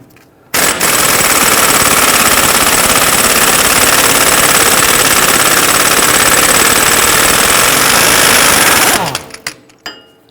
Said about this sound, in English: We're going to use a 32mm deep socket to loosen and remove our axle nut.